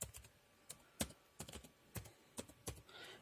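A password is typed on a computer keyboard in a Windows setup: faint, sparse, separate key clicks at irregular intervals, close by and with no voices.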